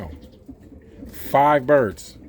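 A Birmingham Roller pigeon in a loft gives a loud, close two-part coo partway through, over faint background rustling and low murmur.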